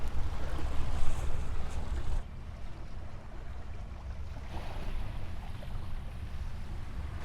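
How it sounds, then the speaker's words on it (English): Steady roar of ocean waves rolling onto an island shore, loud and continuous with wind-like hiss, easing slightly after the first couple of seconds. "There's some real waves coming in right now."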